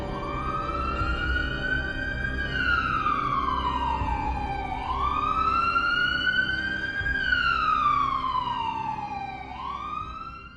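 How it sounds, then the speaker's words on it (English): An ambulance siren wails loud and continuous, sweeping slowly up and down in repeated long cycles, with no voices over it. "its siren wailing."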